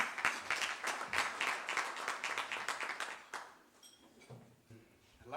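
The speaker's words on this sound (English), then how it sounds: "Please, Oswald, a round of applause." Audience applause at a CEO executive breakfast roundtable event, a few seconds of fairly soft, brisk clapping from a room of people that fades out into quiet room tone.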